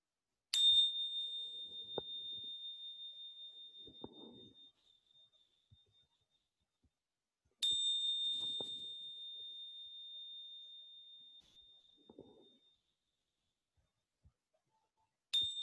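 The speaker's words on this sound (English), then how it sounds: "Notice the sounds of the bell." A bell is struck during a postnatal yoga class, ringing out with a long, clear, sustained tone that slowly decays. It is struck three times several seconds apart, with faint soft sounds in the quiet room between strikes.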